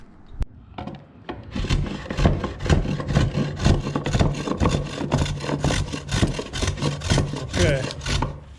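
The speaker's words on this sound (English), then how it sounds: "to smooth it out we'll just take some sandpaper to it" Sandpaper rubs back and forth over the wooden box joints of a homemade cajon, a close, steady rhythm of gritty scraping strokes that starts after a brief pause.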